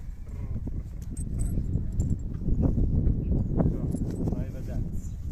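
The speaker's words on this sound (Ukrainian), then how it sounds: "А кобила очемна їде." Steady hoof clip-clop of a mare on a hard road, rhythmic and fairly close, with people talking over it.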